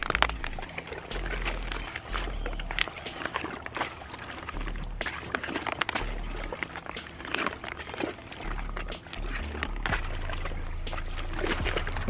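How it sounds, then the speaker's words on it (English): Steady watery churning and sloshing as a PuriBag water purification bag filled with 10 liters is shaken continuously, a fairly quiet, unbroken texture with no talk. "I shook it up for a full 5 minutes"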